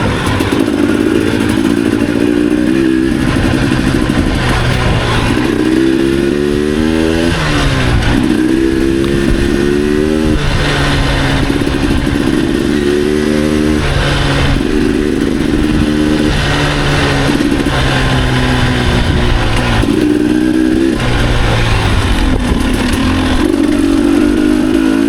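A KTM 300 XC two-stroke dirt bike engine revs up and down repeatedly, loud and close, with rising and falling pitch sweeps and a buzzy, rattling idle between blips.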